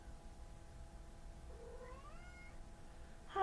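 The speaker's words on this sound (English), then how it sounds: "Harley, you never meow." Harley the pet cat lets out a single drawn-out, wavering meow, moderately faint in a quiet room, with another cry just starting at the very end.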